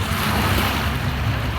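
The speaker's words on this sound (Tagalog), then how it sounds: "So dito kami sa may tabing dagat." Steady broadband roar of sea waves at a busy seaside beach on a sunny summer afternoon, loud and continuous with wind rumble on the microphone and no distinct break or voice.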